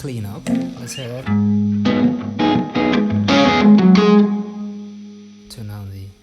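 An electric guitar played through a BJØRN fuzz pedal with the fuzz turned down gives a cleaned-up, mildly gritty tone as several strummed chords and single notes ring close and loud, then decay into a final chord.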